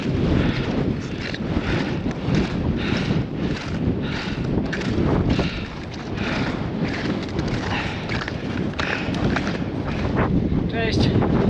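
Strong winter wind at minus 10.5 degrees near the summit of Śnieżka roars and buffets the microphone continuously, loud and gusty throughout, with a brief dip in the middle.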